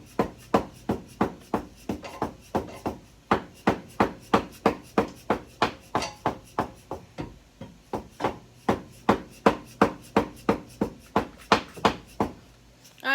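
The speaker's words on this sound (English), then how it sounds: "So now I'm gonna take my dead blow hammer and I'm just gonna tap around the casing and the outer edges to kind of just loosen it up" A dead blow hammer taps steadily around the engine casing of a Rally 200 scooter to loosen it, giving about thirty even, close, dull knocks in a regular rhythm with no talking.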